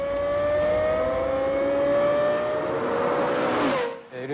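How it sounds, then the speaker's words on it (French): A Lexus LFA engine holds a sustained, sharply tonal wail at high revs, then the pitch drops and the sound cuts away abruptly near the end. "Le son de la LFA est unique."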